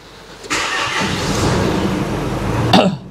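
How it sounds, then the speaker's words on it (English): A salvage-auction Nissan Navara with a manual gearbox cranks and fires up, its engine catching into a steady close idle for about two seconds before a sharp rev blip at the end. "The engine sounds great."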